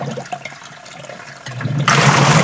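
Water gushes and churns loudly as a washing machine filled with water starts spinning, with a rushing, swirling sound building after softer rattling and clunks.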